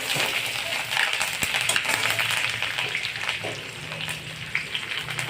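Onion and curry leaves frying in a pan give a dense, steady sizzle and crackle throughout, with occasional faint clicks and stirring sounds.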